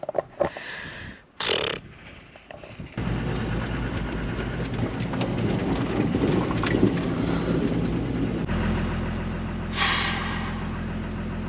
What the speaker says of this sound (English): Turn off the engine. It was loud and it was fun.